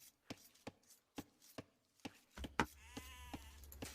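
Sheep bleat in an Age of Empires–style strategy match, amid sharp, evenly spaced tapping clicks, with a brief louder bleat and low rumbling ambience rising toward the end; no talking.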